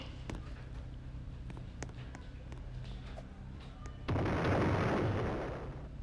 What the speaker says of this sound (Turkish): Bankoda bankada patlama gibi bir şey oldu az önce.